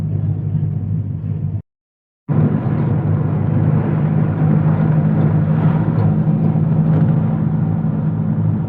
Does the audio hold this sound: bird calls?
no